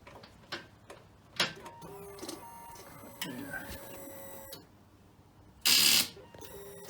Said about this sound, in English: You can hear the starter relay.